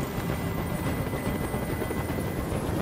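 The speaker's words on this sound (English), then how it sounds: "I can't stand that noise anymore! Tell that helicopter to get out of here!" A helicopter hovers overhead during a hostage standoff in the video game Detroit: Become Human, its rotor a loud, continuous thudding roar with no voices over it.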